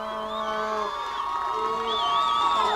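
Fans of the Mission Bay Buccaneers cheer and shout steadily in the stands at a high school CIF boys soccer playoff match, with a match commentator talking over the crowd noise throughout.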